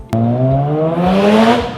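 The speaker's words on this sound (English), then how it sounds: "no one cares about those when an engine sounds like this" A Mazda Wankel rotary engine revs hard with a smooth, high-pitched buzzing drone that climbs steadily in pitch, loud and close, sustained without a break after a sudden start.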